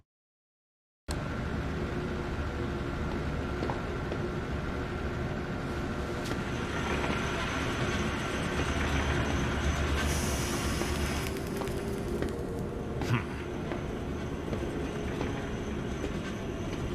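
A train moving through a zoo in the video game Zoochosis, heard as a steady, loud rumble of rail cars with a brief clatter and hiss partway through, running without talk.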